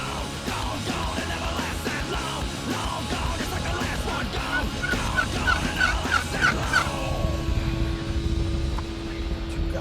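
Many wild turkeys gobble and cluck together in a noisy, overlapping chorus in an open field, with a low engine drone in the background.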